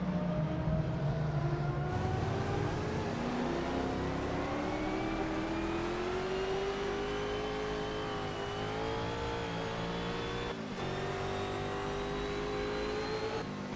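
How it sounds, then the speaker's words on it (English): Historic sportscar engines roar in an online racing game, with one car's engine droning steadily near and rising in pitch as it accelerates, joined by other engines and brief shifts, a continuous loud whine with no talking. "Yeah, the Nissan's engine like really cuts the audio of it. You can hear it from forever away."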